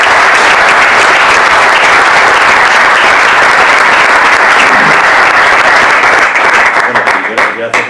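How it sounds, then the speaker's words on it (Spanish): Loud, dense applause from a large audience at a debate on globalization and the decline of the West, a sustained roar of clapping that thins out and breaks into scattered claps at the end. "Un fuerte aplauso a Gonzalo."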